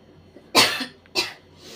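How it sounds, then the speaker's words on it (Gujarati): Two sharp, close coughs about half a second apart, from a person making aloo parathas in a home kitchen, rising over quiet room tone. "ખાંસી બી થઈ ગઈ મને"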